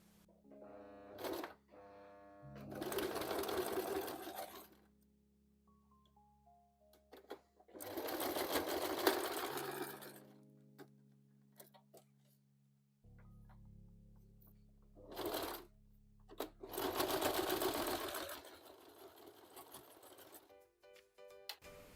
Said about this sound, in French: Je vais juste refaire une petite couture là et là pour bien coincer la corde.